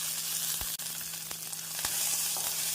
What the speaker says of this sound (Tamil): கருவேப்பிலை சேர்த்து விடலாம்.